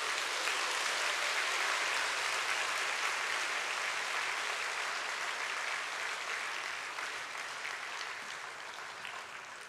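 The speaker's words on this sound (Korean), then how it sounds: "나오실 때 큰 박수 부탁드리겠습니다" A church congregation at a youth evangelism retreat applauds as a young man comes forward to speak. The clapping is dense and continuous for nearly ten seconds, easing slightly toward the end.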